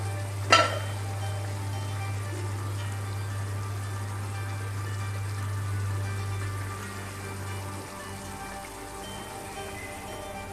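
Carrot and vegetables for semiya upma cooking under a lid on a covered tawa, a soft, steady close simmer and sizzle like light rain, with a low steady hum beneath and one brief clink early on.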